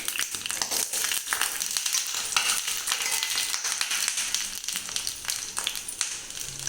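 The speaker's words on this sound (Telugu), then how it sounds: "ఇందులోనేమో ఇదిగో వెల్లుల్లిపాయలు పెద్దగా ఉన్నాయని నేను తరిగి ఉంచానండి, ఉంచేసి ఇవి వేస్తున్నానండి ఇందులో" Chopped garlic fries in hot oil for spinach dal, giving a steady crackling sizzle with sharp pops and bursts throughout, loud and close with no talking.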